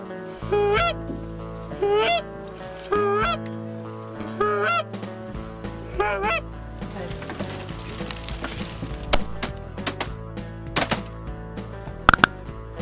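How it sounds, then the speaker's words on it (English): Several geese honk in a loose repeating series, loud and near, rising from a pond during a hunt, followed by scattered knocks and clatter. "out of the pond comes the geese"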